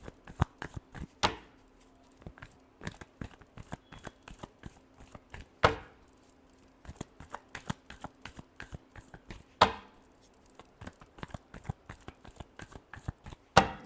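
A deck of tarot cards being shuffled, with rapid sharp riffling clicks in quick bursts and a few louder snaps, heard close and quiet over near silence.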